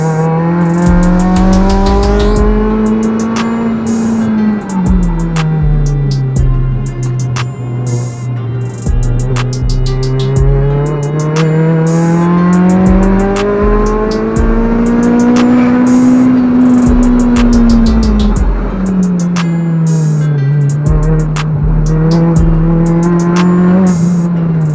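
An 8th-generation Honda Civic laps a race track at Toronto Motorsports Park, its engine droning loud and close with steady rising and falling revs through corners and shifts, sustained throughout without talk.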